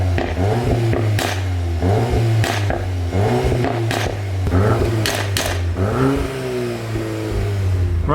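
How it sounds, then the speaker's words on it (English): A VW MK8 Golf R fitted with an Akrapovic exhaust idles and is revved several times in sharp, rising bursts, with crackles between the blips. It is loud and close, and nobody speaks. "I think a lot of you guys want to hear what the Akrapovic exhaust is like"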